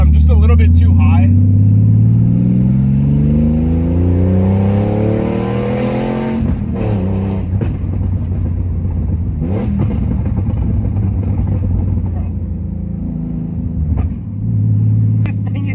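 A Porsche 993 engine with an aftermarket exhaust and no valves revs and drops in pitch with a deep, throaty exhaust rumble, then settles into a loud idle with a few blips of the throttle.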